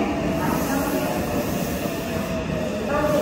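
A train rumbles steadily at a Chubu Centrair Airport station in Nagoya, Japan, a continuous close, loud roar with faint hiss above.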